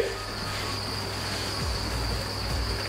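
Live crickets spread out in a tray give a faint, steady high chirring over a low background hum, continuous and unbroken.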